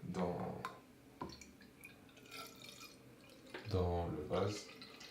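Water is poured into the glass base of a hookah, producing splashing and dripping between stretches of someone talking nearby.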